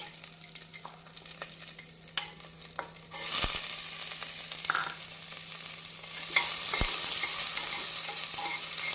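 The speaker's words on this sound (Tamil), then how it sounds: "நாம் நறுக்கி வைத்திருக்கும் ஒரு பெரிய வெங்காயத்தை போட வேண்டும்" Onion sizzles steadily in hot oil while cooking chicken biryani, with occasional scraping clicks of stirring and the frying growing louder partway through.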